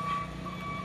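A Hino box truck backing up, its reversing alarm holding a steady tone over a low, constant engine rumble close by.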